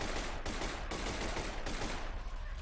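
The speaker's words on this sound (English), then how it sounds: "No, you can't shotgun me from that far." Shotgun blasts in the first-person shooter F.E.A.R., with dense overlapping gunfire and roar of battle filling the whole clip, loud and continuous with sharp bursts near the start.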